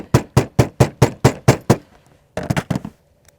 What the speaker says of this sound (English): a soft hammer.